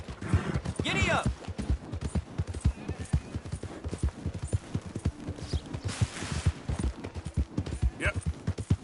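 Horse hooves clip-clop at a galloping pace in a video game, a steady rhythmic patter heard close under frequent character voices.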